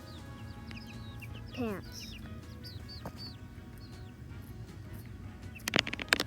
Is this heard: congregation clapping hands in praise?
no